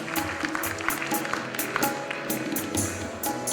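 At a ghazal concert, an audience claps for the violinist with steady, evenly spaced claps carried over continuing music in the hall.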